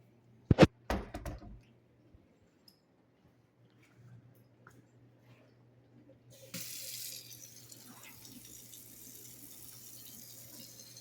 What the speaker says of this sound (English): Faucet works.